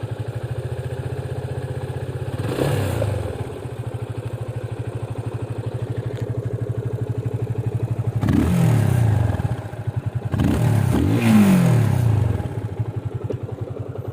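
A Yamaha FZ25 motorcycle idles with a steady, low thrum near at hand, then gets revved three times, each rev a loud rising roar that drops back to idle.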